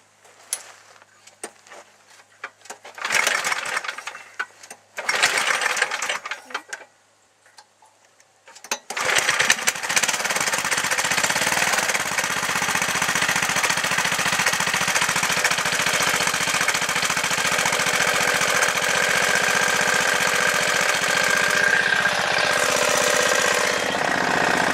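An 8 hp Tecumseh snowblower engine fitted to a Yamaha DT 50 motorcycle, started with the choke on, coughs through a few short bursts and then settles into a steady, loud, continuous idle close by with no talk over it.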